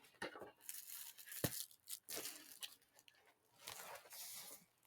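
Something being trimmed down, with quiet close tearing and snipping sounds coming in short irregular bursts separated by brief pauses, including one sharper snap.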